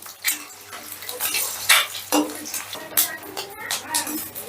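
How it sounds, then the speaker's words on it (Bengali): Eggs frying in a pan for egg chilli and being flipped, with sharp metal clinks and scrapes of a utensil against the pan over a soft, steady sizzle. "এবারে আমি ডিমগুলোকে হালকা লাল লাল করে ভেজে নেব"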